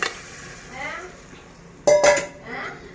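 A spoon scrapes and clinks against a pot while chicken is stirred into curry masala, soft swishing strokes followed by a sharper burst of metallic clatter, close and fairly loud with no talk.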